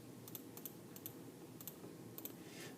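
Keys on a graphing calculator are tapped in a quick series of light clicks, about ten presses in irregular pairs. The clicks sound close and quiet, with no voices.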